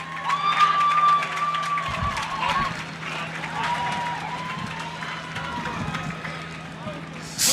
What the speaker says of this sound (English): Round of applause for Shanahan and Manoa